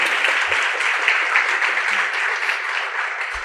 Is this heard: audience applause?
yes